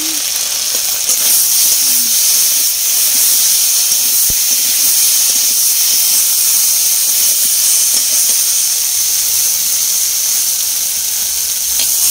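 Spices fry in a pan with chili powder, turmeric and salt, giving a loud, constant sizzling hiss that holds steady throughout at close range.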